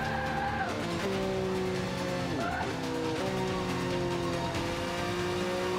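A racing car in Forza 5 roars continuously while its engine rises and falls through gear changes, with tires squealing and skidding through turns, all loud and close with no talk.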